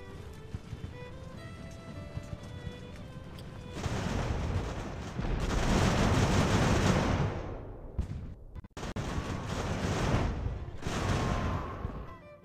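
Musket volleys and rolling gunfire in the naval battle game Ultimate Admiral Age of Sail begin after quiet music, as loud, crackling bursts that swell, break off briefly and return, with no voices.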